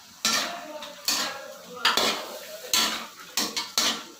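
Chicken adobo with vinegar in a pot is stirred with sharp, irregular clanks of a utensil against metal, about seven close strikes over a faint background sizzle.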